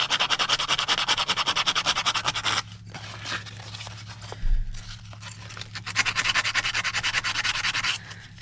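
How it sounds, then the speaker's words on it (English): Sandpaper scrubs a sample surface in horizontal strokes, a close, loud run of rapid back-and-forth rasps that stops briefly for a quieter stretch of faint scraping, then resumes at the same brisk rhythm; no voices. "now we're sanding in a horizontal"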